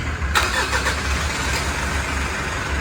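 A 2020 Mitsubishi Strada pickup, whose crankshaft sensor has just been replaced, fires up with a brief cranking burst and then settles into a loud, steady idle close by.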